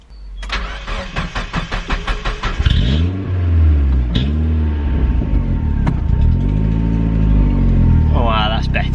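A car engine on a turbo rebuild project cranks with a rapid stuttering starter rhythm, catches and settles into a loud, steady idle with a couple of brief revs, close up, with voices talking over it.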